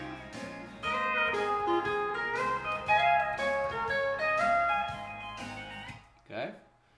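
A pedal steel guitar plays a phrase from a country tune, with sustained, gliding notes that overlap and ring together, heard up close for several seconds before the sound drops away.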